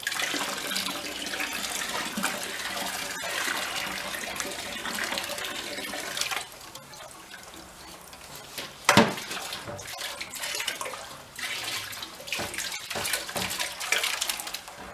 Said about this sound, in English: It doesn't even smell like remotely like fuel. Kind of pours like water too.